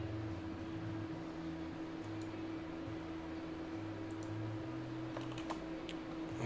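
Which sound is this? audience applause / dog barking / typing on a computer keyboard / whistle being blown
typing on a computer keyboard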